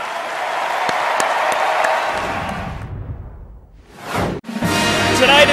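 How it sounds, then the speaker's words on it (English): An audience at the WWE Hall of Fame 2009 ceremony applauds loudly in a broad wash of clapping that fades away, then a swoosh and renewed crowd noise follow. "How about a big round of applause for the WWE Hall of Fame Class"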